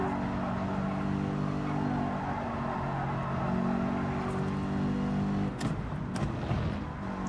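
Mercedes AMG race car engine in Gran Turismo 7, droning steadily with sustained harmonic tones through a sprint race around Tokyo, a brief shift or gear change near the end, no talking.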